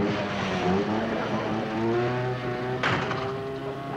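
A motorcycle engine hums and drones steadily close by, pitch shifting slightly as it runs, with a brief sharp clatter near the end, in a TV sitcom.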